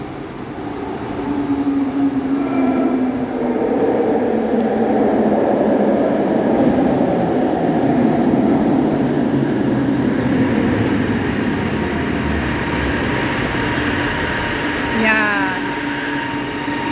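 A loud light rail train rumbles into a station and rolls steadily along close by, with a heavy droning roar and a brief squeal of brakes near the end.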